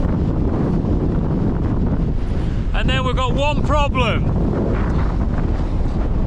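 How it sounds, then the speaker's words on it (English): Strong wind buffets the microphone in a constant low roar throughout at a cold, wild campsite on Crag Hill in the Lake District, UK, with someone speaking briefly partway through. "You can see how windy it is."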